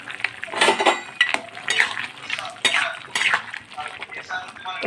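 A spoon clinks and scrapes against a pot as lentil dumplings (bori) are stirred into a cabbage curry made with winter vegetables. Uneven metallic knocks and stirring sounds follow one another in quick, irregular bursts, close and fairly loud.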